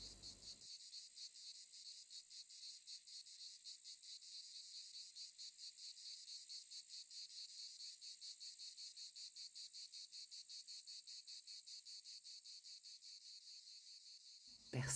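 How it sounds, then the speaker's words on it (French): Rapid pulsing insect chirps drone on steadily and evenly, a high buzzing rhythm against otherwise quiet surroundings. "Et écoutez les cigales chanter leurs chansons de l'été."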